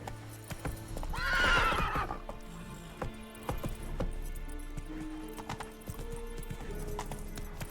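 Roach the horse in The Witcher 3 lets out a loud, clear neigh, followed by steady clip-clop of hooves trotting at close range.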